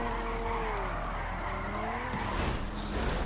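A car spins out in GTA Online, with loud tires squealing and skidding in rising and falling pitch sweeps over a steady engine roar, then a rougher scrape near the end.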